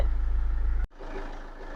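A Chevrolet Captiva engine idles with a steady, close low hum, then cuts off abruptly partway through, leaving a quieter, rougher background.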